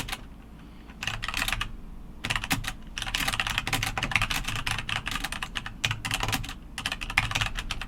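Steady typing on a computer keyboard fills most of the stretch as a close, continuous patter of key clicks, beginning after a short quiet pause.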